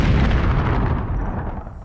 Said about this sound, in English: A terrible explosion,